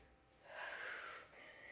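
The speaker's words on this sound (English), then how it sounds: "Strong exhale to come up." A single strong, breathy exhale during an ab exercise in a HIIT workout, close and fairly quiet, building and fading over about a second with no talking.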